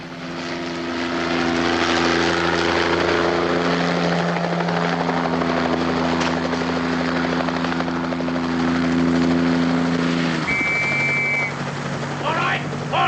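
A helicopter flies overhead with a loud, steady rotor drone and engine hum that holds throughout and briefly dips near the end.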